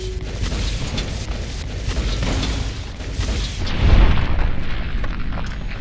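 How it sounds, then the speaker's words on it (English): Rocket explosions in the video game Fallout New Vegas: a dense, continuous roar of booming blasts with one heavier, louder burst near the middle, rumbling steadily throughout with no talk. "Spam these fucking rockets all day."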